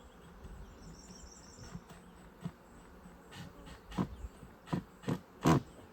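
Honeybees fly in and out of a hive, a faint buzzing drone with several louder passes as individual bees zip close by, no talking.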